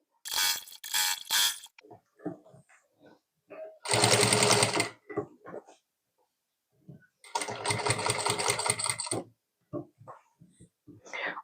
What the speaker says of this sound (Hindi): अभी हम दूसरी तरफ जाएंगे और यहाँ से हम